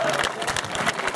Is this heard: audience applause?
yes